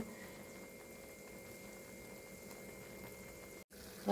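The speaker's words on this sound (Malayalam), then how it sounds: "ഒന്നിച്ചെടുത്ത് ഒരു ചീനച്ചട്ടിയിലിട്ട് ഇങ്ങനെ തിളപ്പിക്കണം" Butter boiling down into ghee in a cheenachatti (Indian wok) as its water cooks away gives a faint, steady bubbling crackle that runs continuously, with a brief dip near the end.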